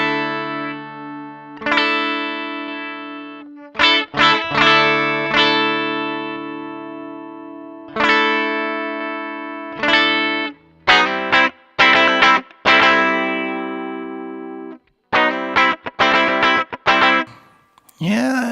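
Electric guitar with a coil-split humbucker, played through a graphic EQ pedal, rings out sustained distorted notes and quick clusters of picked chords. The playing is loud and close, with short gaps between phrases and no talking.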